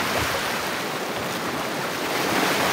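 Gentle ocean waves wash near Bayug Island in a steady, close wash of surf noise with a light wind rumble underneath and no voices.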